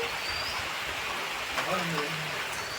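Rain falls steadily outdoors in a Konkan village, a dense, even hiss of drops with a faint voice and a brief whistle-like tone in the background.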